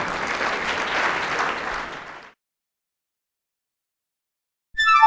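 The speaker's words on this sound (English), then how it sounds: "Round of applause for Gene." Audience applause fills the first two seconds and fades into silence, then a bright cheer cuts in at the end.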